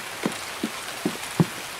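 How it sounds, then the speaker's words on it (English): Rain falling in the Escape From Tarkov video game, a steady soft patter with a handful of distinct droplet taps landing at a roughly even pace against a constant hiss. "Nice rainy day"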